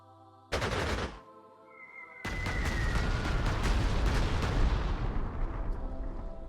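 Aircraft in Panzer Corps 2 drop bombs, heard as a sharp loud blast, a brief lull, then a long rumbling barrage of crashing explosions that slowly fades.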